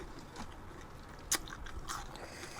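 Someone bites into food and chews it, with one sharp crunchy bite in the middle and softer wet chewing and munching around it, up close and with no talking.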